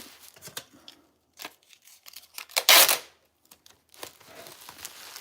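Scissors snip through bubble wrap while flowers are packed, making a series of close, crisp cuts and crinkles with one louder crackling burst midway.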